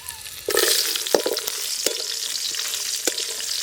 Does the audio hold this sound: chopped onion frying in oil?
yes